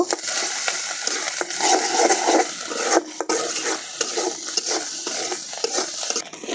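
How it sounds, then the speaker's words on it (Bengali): Thick onion, ginger and garlic paste with cumin and coriander fries hard in a pan, an uneven crackling sizzle broken by repeated scraping stirs and spoon knocks, close and fairly loud with no talk. "তো এই যে এখানে আমি পেঁয়াজ বাটা, আদা রসুন বাটা খুব কড়া করে ভেজে নিলাম।"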